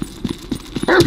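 A dog in Grand Theft Auto V barks and snarls in a quick series of close, rough yaps and growls while attacking, ending in a louder burst.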